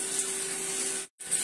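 Water is poured steadily over a small child being bathed, a close, continuous splashing stream that breaks off briefly near the end before resuming.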